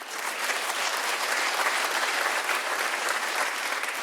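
A comedy club audience at a stand-up show bursts into steady, dense applause that holds at an even level throughout.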